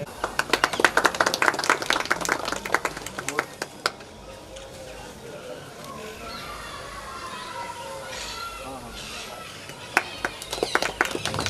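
A crowd claps at a library inauguration in Mahudiyapura. Brisk applause fades into a calmer stretch of murmuring ambience, then scattered clapping picks up again at the end.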